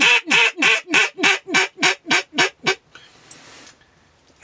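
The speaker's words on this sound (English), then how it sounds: "I use the Primos timber wench. It's a double reed and has the porthole, so you can make it sound like two different ducks." A Primos Timber Wench double-reed duck call blown in a flooded field gives ten loud, evenly spaced quacks in a descending run, followed by quiet outdoor ambience.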